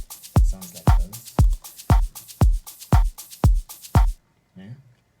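Percussive loop from an organic house track with layered shakers stacked over a steady kick, repeating in an even rhythm at close, loud level, then cutting out with a brief softer hit at the end.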